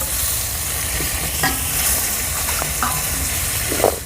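Fish frying in hot mustard oil in a kadai, a steady loud sizzle with a few spatula scrapes and clinks as the pieces are turned, close up and without speech.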